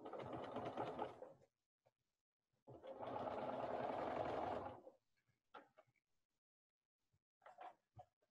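A home sewing machine stitches two pieces of fabric together with a quarter-inch seam, two sustained bursts of steady whirring close by, with a few faint clicks and handling sounds between and after.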